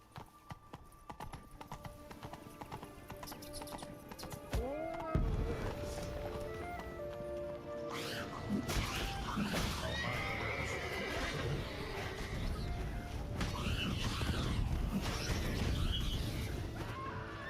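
Hoofbeats of the horse Roach trotting along in a Witcher video game, a steady clip-clop running throughout, joined by a clear neigh partway through, all over swelling background music with no talk.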